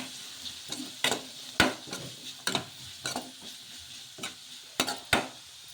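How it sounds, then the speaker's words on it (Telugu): Grated carrot is stirred into a mixture in a pan for ragi bun dosa. A utensil scrapes and taps the pan in an irregular rhythm over a soft sizzle, up close and with no talking. "క్యారెట్ తురుము కూడా వేసేసుకొని ఒకసారి బాగా కలిపేసుకుందాము"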